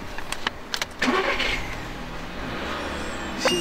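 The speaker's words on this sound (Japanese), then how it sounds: "ちょっとエンジンかけて" A yellow Volkswagen Beetle Cabriolet's engine cranks and catches with a sharp start, then settles into a smooth, quiet idle close by.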